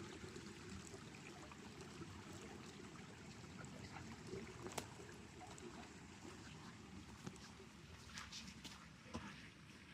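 River water rushes steadily at a trail crossing near the Springer Mountain parking lot on the Appalachian Trail, a continuous broadband wash with faint trickles, heard alone throughout.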